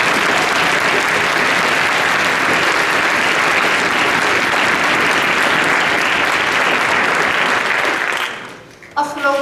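A large audience at a Model European Parliament general assembly in the Netherlands gives the staff and caterers sustained loud applause, steady dense clapping that fades near the end as a voice begins to speak.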